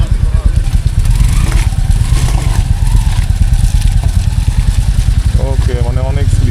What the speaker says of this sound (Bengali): চাকা স্লিপ করতেছে একদম, মানে যা তা ভাবে স্লিপ করতেছে।